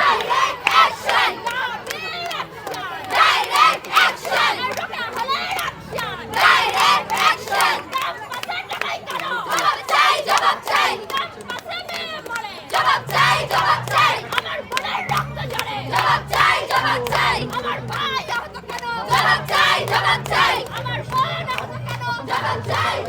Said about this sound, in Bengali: তারা এই রোকেয়া হলের যে মেন গেট সেখানে কিন্তু বের হয়ে স্লোগান দিচ্ছেন